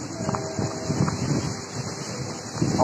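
Strong night wind at Muncar harbour buffets the microphone in a steady, rough rush with low gusty rumbles, and faint water and boat sounds sit underneath.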